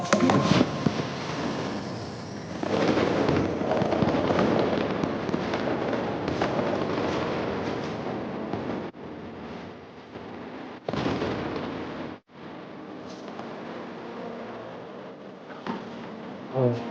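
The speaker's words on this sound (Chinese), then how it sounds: "其实我特别感谢这个烟花的颜色" Fireworks burst and crackle continuously, a dense roar of explosions and sizzling pops, with a few brief lulls between volleys.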